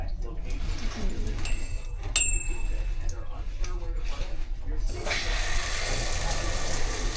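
Water runs from the tap in a Carnival Panorama standard balcony cabin bathroom, a soft hiss with a few clicks and knocks, then a stronger, brighter rush of flow near the end.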